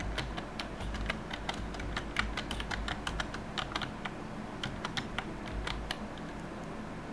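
Fingers type on a computer keyboard with a steady stream of close, crisp key clicks in uneven bursts, alone and fairly quiet, with no voices.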